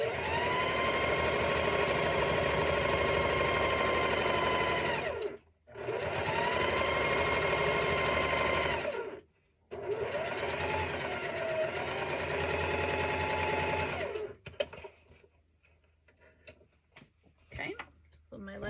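Sewing machine stitching quilt rows together in three long, steady motor runs broken by short pauses, loud and close, then going quiet with faint handling sounds.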